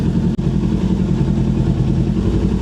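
Suzuki GSX 150 motorcycle pulling away in first gear near the clutch biting point, a loud, close, steady engine drone with one brief dropout near the start.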